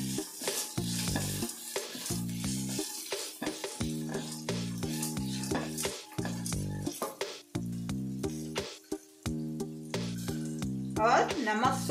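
Turmeric is stirred into lemon rice frying in a pan. A spoon scrapes and soft sizzling patters under background music.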